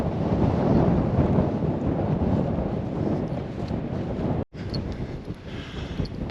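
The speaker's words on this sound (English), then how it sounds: "the wind's against me, and it's a strong wind still" Strong wind buffets a walker climbing through open farmers' fields, a loud continuous rumbling roar across the microphone with one brief dropout near the end.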